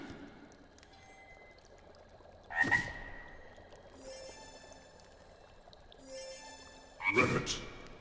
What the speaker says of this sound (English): use the spell and you'll let out a swarm of frogs to play